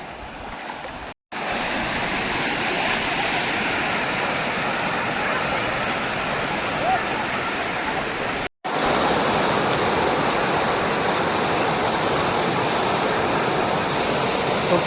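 A waterfall thunders in a constant, loud rush of falling water, broad and steady throughout with two brief dropouts.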